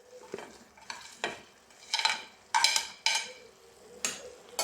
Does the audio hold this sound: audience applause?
no